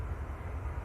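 An airliner rolls down the runway on takeoff at Manchester Airport, a steady, distant engine roar with a low rumble that holds evenly throughout.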